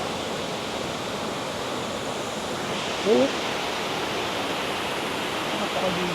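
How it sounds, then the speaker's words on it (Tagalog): Water from a small waterfall at Bukal Falls in Majayjay, Laguna, gives a steady, even rush of flowing water throughout. A couple of brief voices cut in over it. "parang mini falls sa taas"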